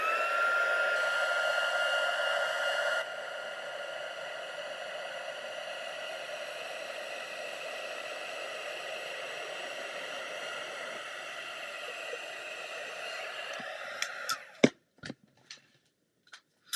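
A heat gun blows steadily on embossing powder on a card, a continuous whooshing hiss that drops in level after a few seconds, then cuts off into a handful of sharp clicks and taps.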